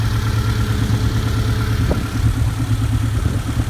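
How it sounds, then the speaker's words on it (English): Subaru 2.5L engine fitted in a 1991 VW Vanagon, idling with the rear hatch open and the AC compressor clutch disengaged; an even, quiet mid-pitched idle with steady rhythmic pulsing, close and alone. "let you see the engine for itself while it's running"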